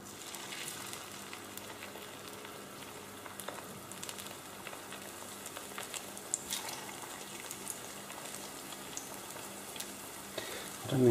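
Egg-soaked bread sizzling in a warmed frying pan, a steady soft crackle and spit of frying throughout, fairly quiet and close, with a brief louder clatter at the very end.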